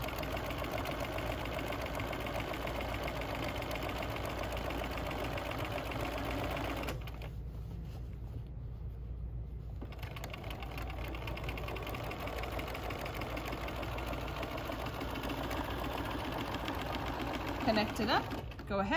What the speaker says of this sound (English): I'm just gonna go ahead and stitch right over this.